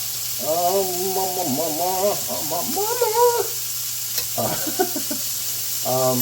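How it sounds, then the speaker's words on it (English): A thick sirloin steak sears in a pan with garlic, a steady background sizzle running under a person talking over it. "we're going to sear each side for a minute each on each side"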